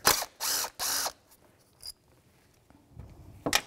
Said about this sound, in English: Millimeter socket, take off the mounting bolt.